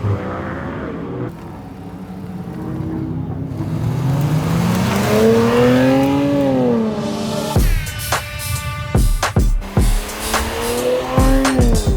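A 2025 Nissan Z NISMO sports car drives loudly and close, its engine note rising and falling through revs, then sharp gear-shift breaks and renewed acceleration in the second half.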